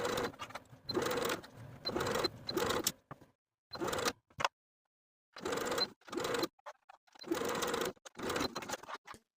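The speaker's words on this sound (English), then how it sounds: "Now I'll sew the binding in place from pin straight across the arm side to the opposite pin with a 3/8 inch seam allowance" Sewing machine stitching binding onto the armhole of a cami top, running in several short bursts separated by silent pauses, close and clear with no talking.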